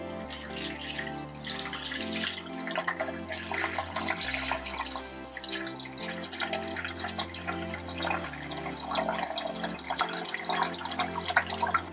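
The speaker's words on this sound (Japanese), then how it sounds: "こちらの方に、水を注いでいきたいと思います。" Water pours steadily into a Brita Liquelli pitcher-type filter with its cartridge fitted, a continuous splashing and trickling stream with gurgles, heard up close without any talking.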